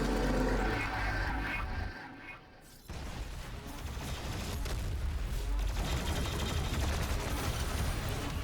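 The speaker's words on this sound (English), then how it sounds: "the first thing you're going to want to do is just immediately shoot him down, bust his shield, and then rocket him" Rapid gunfire and rocket blasts against the Doom Hunter in DOOM Eternal on PC come as a dense, loud, continuous barrage, dropping briefly to a quieter lull before the shooting resumes.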